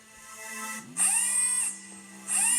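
A synthetic whirring drill effect loops in short bursts, a steady hum rising into bright whining pulses that stop and restart, close and fairly loud.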